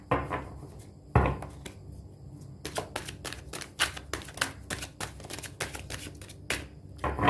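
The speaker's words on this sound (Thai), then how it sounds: "ถ้าสับไพ่นานเกินไปนะคะ" Tarot cards are shuffled by hand: a soft slide at first, then a quick run of crisp, snappy card clicks and flicks in an uneven rhythm, close up and otherwise quiet.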